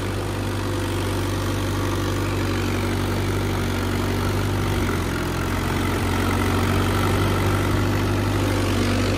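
A Swaraj 855 diesel tractor engine runs steadily, with a loud, low, even throb and hum that goes on unbroken with no voices.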